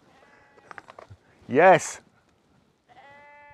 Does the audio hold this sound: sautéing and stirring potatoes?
no